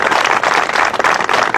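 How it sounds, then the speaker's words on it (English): Audience applause at a middle school groundbreaking ceremony, a steady, dense wash of clapping from a nearby crowd sustained throughout without a break. "Give them a round of applause."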